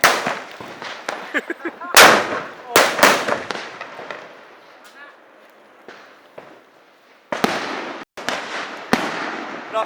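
Firecrackers and fireworks at a Hmong New Year celebration in Ban Pha Nok Kok, Mae Rim, Chiang Mai: sharp, loud cracks and bangs come in irregular bursts, some close and some echoing, with quieter crackle and a few voices in between.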